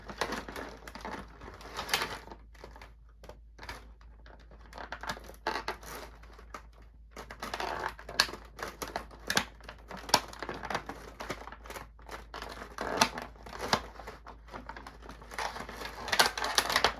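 Scissors snip and crinkle plastic packaging to free a NECA Godzilla figure, with irregular quiet clicks, cuts and rustles scattered through a long stretch of near-silence, no voices.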